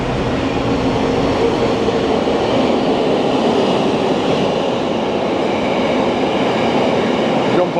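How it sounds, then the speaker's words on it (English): A freight train hauled by a class 68 diesel locomotive passes close by on the fast line, a loud continuous roar and rumble of wagons rolling steadily for several seconds. "And there's a freight coming through here"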